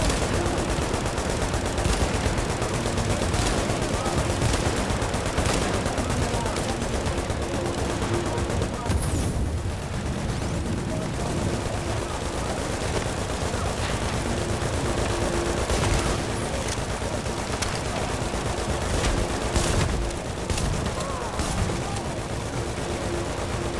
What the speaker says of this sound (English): Shooting, man.